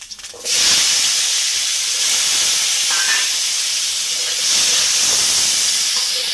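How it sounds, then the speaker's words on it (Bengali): Potatoes sizzle loudly in hot mustard oil left over from frying pointed gourd, a steady close hiss that swells as they hit the pan and again near the end. "ওই তেলেতেই এবার আমি আলু তুলে দেবো।"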